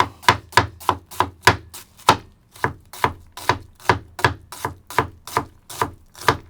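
An onion is chopped on a board with a Hatsukokoro STRIX steel gyuto kitchen knife, giving about twenty crisp, close cuts in a brisk, steady rhythm.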